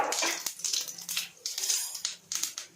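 Cumin seeds crackle and spit in hot oil in a home kitchen, a dense, uneven sizzle with sharper popping surges, close and fairly loud.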